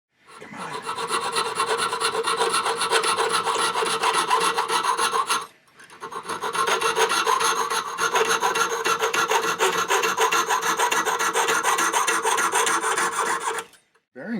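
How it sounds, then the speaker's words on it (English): A hand file rasping along the edge of a sterling silver locket piece, steady fast strokes close up and loud, with a brief pause midway and another near the end. "I can trim that a little better, but I do like to leave some so that I can file to the edge I want"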